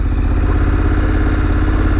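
A motorcycle engine holds a steady, loud, close throttle during a slow full-lock turn, a continuous mid-range drone that neither blips nor fades, with no voices over it.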